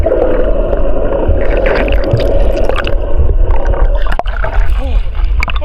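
Muffled underwater ambience while snorkelling in the Red Sea off Sharm El Sheikh, a steady watery wash with gurgling bubbles and squishy movement noise, close and continuous, with faint muffled voice-like sounds.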